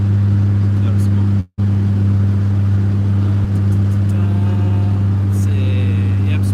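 Truck engine idling steadily just after new motor mounts were fitted, a loud continuous low rumble throughout with a brief cutout and faint background sounds near the end.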